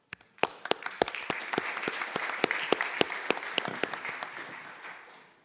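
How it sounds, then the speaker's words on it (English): Sparse applause for a presenter at a scientific workshop: a handful of sharp, distinct claps in an uneven rhythm, building briefly and then fading out. "One more round of applause to our presenter as we move to the next one."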